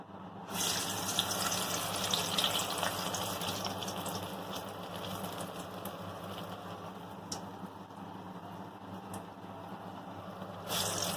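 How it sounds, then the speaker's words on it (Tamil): Medhu vadai batter frying in hot oil in a kadai gives a steady, dense sizzle that runs close and unbroken for about ten seconds after a brief quiet start, with no voices. "எண்ணெய் காஞ்சிடுச்சு. இப்போ நம்ம இதில் வடை தட்டி போட போகிறோம்."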